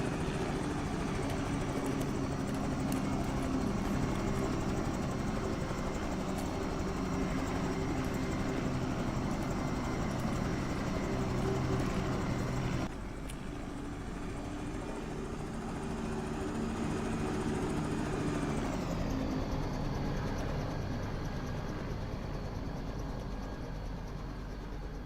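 Bell 222 helicopter in the X-Plane 11 flight simulator, a steady loud rotor and turbine drone with no talk, shifting abruptly in tone midway and again near the end.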